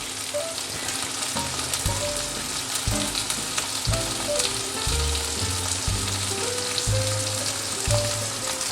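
Sliced onion and two green chilies sizzle steadily in hot oil over lowered heat for a Bengali Malabar spinach chochchori, a dense, continuous crackle with a low tonal hum underneath throughout.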